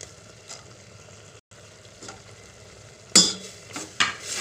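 Anchovies being stirred while frying in a pan with crushed tomatoes for a sautéed string bean dish, a low steady sizzle broken by a couple of sharp utensil scrapes near the end.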